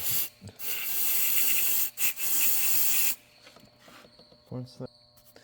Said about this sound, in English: I like to take some QD electronic cleaner